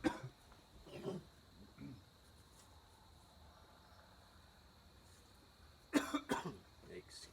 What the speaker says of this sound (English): Had to clear my throat there.